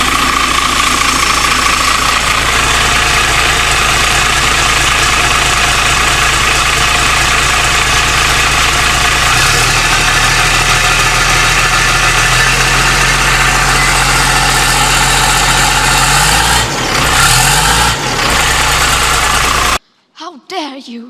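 A car engine idles close by with a steady low rumble and rough, uneven running from a fuel problem, sounding near to stalling; the sound falters briefly toward the end, then drops out abruptly.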